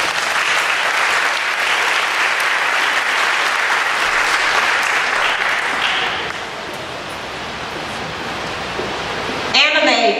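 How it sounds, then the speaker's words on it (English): Audience at a school honors day ceremony clapping in a steady, loud wash of applause that thins out toward the end, with a voice briefly heard at the close. "Let's give her another applause."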